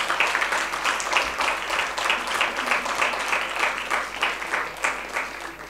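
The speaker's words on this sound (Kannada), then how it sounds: "ತಮ್ಮೆಲ್ಲರ ಪ್ರೀತಿಪೂರ್ವಕ ಚಪ್ಪಾಳೆ ಮತ್ತೊಮ್ಮೆ" Audience applause follows a harmonica performance at a music concert, a dense, steady crackle of many hands clapping that holds at an even level for several seconds with no voices.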